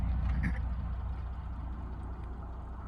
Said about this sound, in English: this is where we need to be running the engine and get a baseline for what the engine's doing